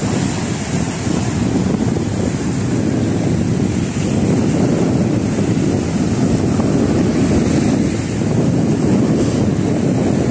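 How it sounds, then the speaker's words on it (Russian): Constant roar of sea surf crashing onto Dzhemete beach in Anapa, mixed with heavy cold wind buffeting the microphone, loud and continuous with no voices. "Смотрите, какая волна"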